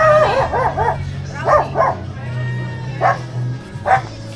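Dogs in Happyland, a slum in Tondo, Manila, bark and yip loudly nearby in short repeated bursts, with whimpering between barks and a steady low hum underneath.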